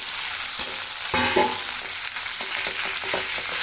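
Potatoes sizzle and fry with onions in a pan for potato masala, a steady hiss with occasional stirring clinks and scrapes, close and continuous with no talking.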